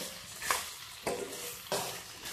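Tomato and ridge gourd sautéing in a pan for a chutney, a soft low sizzle broken by three or four brief scraping stirs at steady intervals, close and fairly quiet with no talk.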